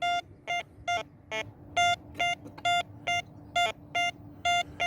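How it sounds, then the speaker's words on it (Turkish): A phone sounds a run of short, evenly spaced electronic beeps, about a dozen clipped tones in steady rhythm, clear and close against a quiet background hum. "Bu arada telefonlar geliyor."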